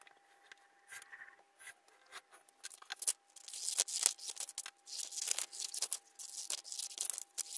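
Scissors snip steadily through a paper printout template, with irregular crisp cuts and crinkling paper rustles close by and quiet, no talk.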